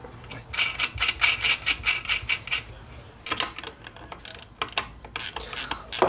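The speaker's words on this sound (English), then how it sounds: "Love these ratchet wrenches, so much quicker." A ratchet wrench tightens a master cylinder onto a brake booster on a Jeep XJ Cherokee, fast bursts of rapid clicking in quick repeated strokes, close and crisp, pausing briefly between runs.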